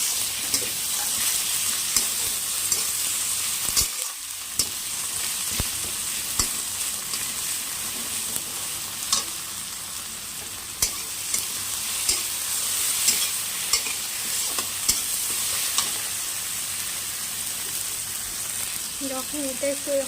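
Tomato frying in a pan with whole cumin and a little salt, a steady bright sizzle with scraping stirs, close and loud, running continuously with no talk.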